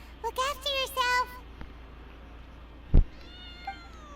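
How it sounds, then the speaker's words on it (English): A cat in Genshin Impact meows in a short, high, rising-and-falling series of three quick calls, followed by a soft thump and a fainter meow trailing off, set against quiet game ambience. "A random cat."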